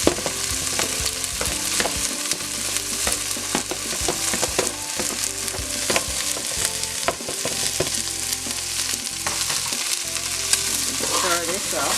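Scallions and garlic fry in a soup pot for pumpkin soup, giving a steady close sizzle with occasional stirring scrapes, loud and continuous with no talking.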